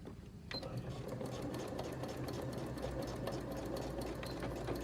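A domestic sewing machine stitches a zipper bag, starting after a brief pause and then running in a fast, steady mechanical rattle of needle strokes up close.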